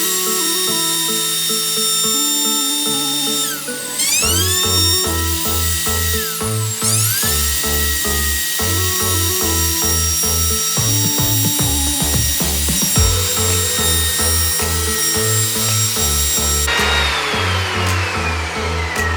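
A power tool cuts a wooden worktop for a VW Transporter campervan build, a loud, continuous whining drone with shifting pitch that runs the full length, with no talking.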